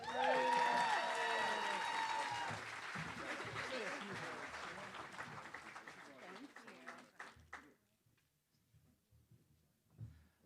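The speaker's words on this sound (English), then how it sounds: "Let's give another round of applause for the 19th graduating class of Missouri Realtors" Audience applause for a graduating class at a realtors' leadership academy ceremony, loud sustained clapping that fades after several seconds, with a speaker's voice over it.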